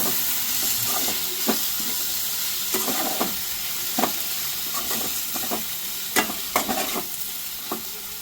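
Chopped tomatoes hit a pan for cauliflower masala curry and sizzle steadily while a spoon stirs them, its scrapes and knocks coming in irregular bursts over the frying hiss.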